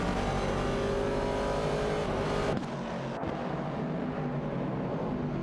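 Race car engines roar in an AI-run video game race, a Dodge Dart and Ford Falcon battling for 11th place among classic muscle cars; a loud dense engine drone that drops abruptly midway to a lower rumble.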